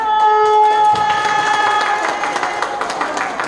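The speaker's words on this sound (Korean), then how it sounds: "우리 큰 박수 쳐주시면 아름다운 공연 을봤습니다 박수!" An audience at a charity concert at a day-care centre breaks into applause as a ringing musical tone fades, the clapping building into a dense patter with crowd voices.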